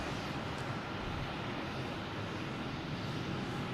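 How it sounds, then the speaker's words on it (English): JetBlue Airbus A220 jet arriving from JFK at Boston Logan Airport, a steady broadband engine roar held at an even, fairly loud level throughout with no voices. "The JetBlue here from JFK, A220."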